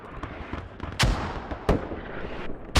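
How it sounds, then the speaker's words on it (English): Mortar fire in a tactical military shooter match, heard as sharp booming blasts at irregular intervals, two strong impacts plus a final one over a constant rumbling battlefield backdrop, loud and close, with no talk. "And now these mortars, though, causing chaos for this hab."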